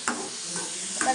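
Chopped tomatoes frying in a pan for egg chutney, a steady close sizzle broken by two or three quick stirring scrapes.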